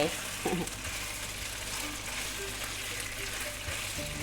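Pork belly sizzles steadily in a hot pan, with a continuous crackling hiss and a few brief stirring clinks near the start, fairly quiet and without talk.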